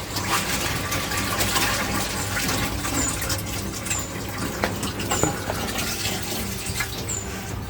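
Liquid empties from a motorhome toilet cassette in a steady, continuous gurgling rush, close by, with a few faint squeaks and clicks over the flow as the button is pressed.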